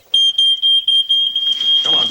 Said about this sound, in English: what do you do when there is an alarm?